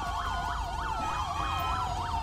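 Police sirens in Grand Theft Auto V with a police mod, a loud, steady wailing siren rising and falling in a regular rhythm, with other siren tones layered over it and no talk.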